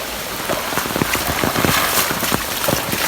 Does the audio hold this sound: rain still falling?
yes